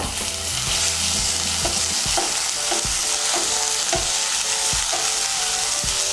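Onion sizzles in a pan with garlic paste, ginger paste and green chilli paste as a spoon stirs and scrapes it, a steady close fry broken by regular knocks of the spatula, no voices.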